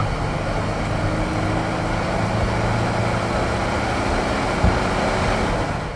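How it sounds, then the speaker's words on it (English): A 1993 Ford Ranger Splash with its 4.0-liter engine and automatic transmission pulls under heavier throttle, a steady broad engine and road roar heard from inside the cab, with no talking. "We'll get in the throttle a little heavier here and see what that little 4-liter will do for us"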